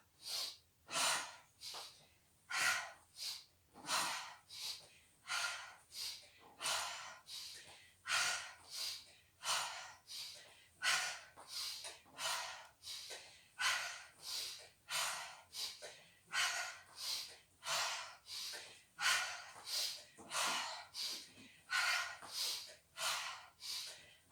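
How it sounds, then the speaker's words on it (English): Steady rhythmic breathing during repeated yoga arm-strength movements, alternating inhales and exhales about once a second, close and soft, continuing through the whole stretch with no talk. "Inhale, exhale, inhale, exhale."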